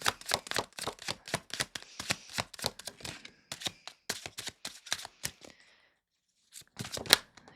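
A deck of tarot cards being shuffled up close: a quick run of crisp, papery snaps and flutters for about five seconds, a brief silent pause, then a few more sharp card flicks, with no voices.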